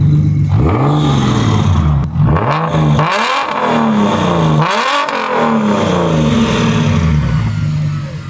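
A single-turbo BMW 335i N54 engine revs hard and close, rising and falling in repeated sweeps with a throaty growl and a faint whoosh between pulls.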